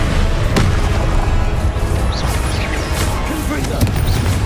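A spell cast in Hogwarts Legacy, with a sharp burst at the start followed by a steady dense rumble of magical effects and scattered crackles and pops. The whole passage is loud.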